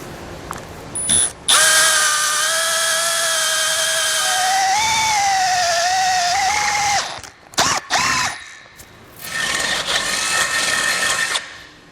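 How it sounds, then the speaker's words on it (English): A power drill bores through the bumper beam of a 2015 Jeep Cherokee, a loud sustained whine that rises in pitch as it bites into the metal, then stops with a few short bursts and rattles before running on more roughly. "use the hole here as a guide to drill a hole through both sides of our bumper beam"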